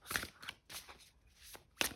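Tarot cards from a new Light Seer's Tarot deck are shuffled by hand in several short riffling bursts, crisp close papery flutters separated by brief pauses.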